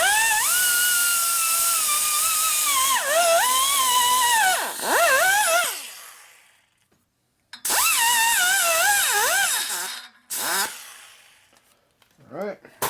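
A high rotary-tool whine cuts aluminum inside the port of a 1950 Panhead cylinder head. The pitch wavers as the bit bites, in close, loud bursts that stop for a moment, resume, then fade into short final touches.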